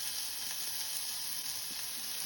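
Chopped green chili and spring onion fry in a pan with ginger, giving a steady, loud, close sizzling hiss that holds without a break.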